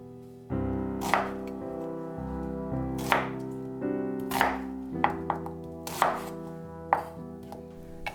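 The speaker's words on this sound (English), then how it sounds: "Cut the onion into chunks." A knife chops onion into chunks on a cutting board, a series of firm, evenly spaced thuds up close over a steady low background hum.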